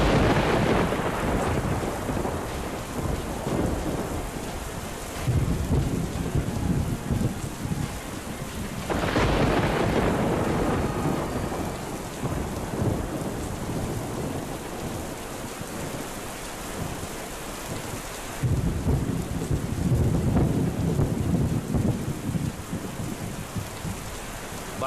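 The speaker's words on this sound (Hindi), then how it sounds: "बारिश का कहर अब दिल्ली पर भी बरस रहा है" Heavy rain falls steadily in Delhi during a storm, and deep thunder rolls in three times, each crack surging loud before rumbling away beneath the constant downpour.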